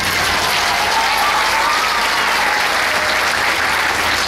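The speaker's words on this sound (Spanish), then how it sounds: "Fuertes esos aplausos, por favor, para nuestro grandísimo embajador" Loud, dense crowd applause at a parade festival, with many hands clapping steadily as a continuous roar for the full length and no voices standing out.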